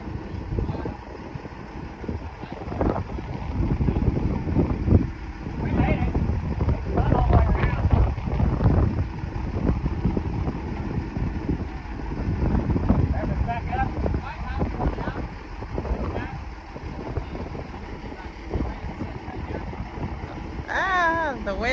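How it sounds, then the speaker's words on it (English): Wind blowing outdoors during a tiny house septic tank install, buffeting the microphone in gusty rumbling surges under people talking nearby. "The wind is turning it."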